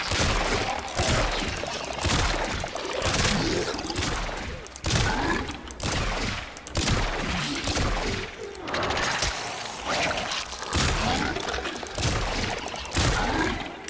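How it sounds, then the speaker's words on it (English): Artemis bow shots from the video game Warframe fire in a dense, loud rapid volley, with bursts of sharp impacts roughly every second or two over a continuous roar of game effects. "Let's pull Artemis bow out and shoot that down."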